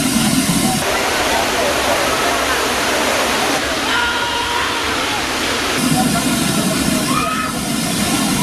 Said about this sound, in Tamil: ஆர்ப்பரித்து கொட்டும் குற்றால மெயின் அருவியில் மக்கள் குளித்து மகிழ்கின்றனர்